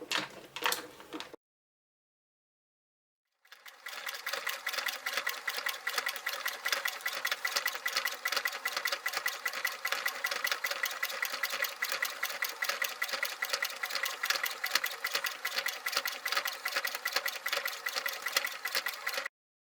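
A sewing machine runs a zigzag stitch through denim and fabric for a handbag pouch: a brief burst, a pause, then a long, steady, close-up run of fast, even stitching with no voices.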